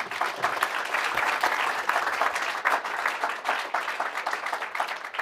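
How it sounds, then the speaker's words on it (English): A medical debate audience gives sustained applause, many hands clapping in an even, dense wash that carries on steadily without voices. "By vote of applause for the guys."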